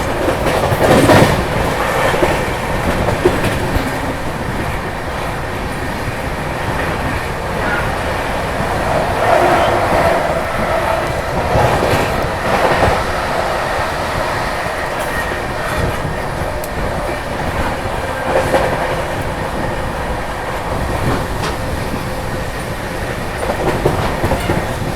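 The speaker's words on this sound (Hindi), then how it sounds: "फाइनली हावड़ा नई दिल्ली मेन लाइन पर अपनी ट्रेन भाग रही है अपनी टॉप स्पीड 130 पे" The Brahmaputra Mail express runs at its top speed of 130 on the Howrah–New Delhi main line. It makes a loud, continuous rumbling roar with rattling wheels and rushing wind, heard from inside the train with no talk.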